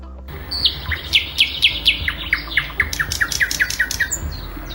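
A songbird pours out a lively run of chirps and whistles, a rapid series of descending notes that quickens into a denser, rattling sequence, close and clear with no talking.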